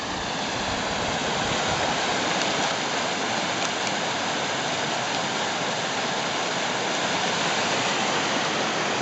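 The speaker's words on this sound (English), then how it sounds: "I'm having to shout because of the river behind me, just to give you an indication of how much rain there must have been up here recently." A swollen river rushing after heavy rain, a loud, constant roar of churning water close by that fills the whole stretch without letting up.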